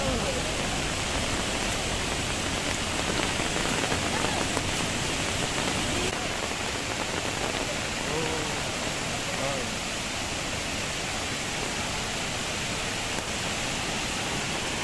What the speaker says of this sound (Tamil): மூணு மணி நேரம் ட்ரெக்கிங்க்கு அப்புறம் நம்ம ரீச் ஆகிருக்கிற இடம் தூத்சாகர் வாட்டர் ஃபால்ஸ்